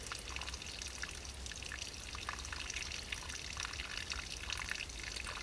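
Steady water trickles and drips through a saturated filter bag outdoors, a constant soft splashing with no talking.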